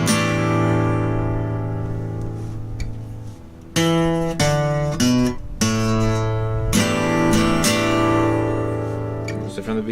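A guitar strums every string of a chord from a song, with several loud, close strums separated by short pauses and no voice over them.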